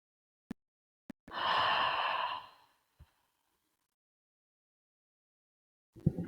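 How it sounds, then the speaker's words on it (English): One long, deep breath is exhaled audibly close by during seated chair yoga, framed by a couple of faint clicks, followed by silence and a brief soft sound at the end. "Take an inhale here. Exhale it all out."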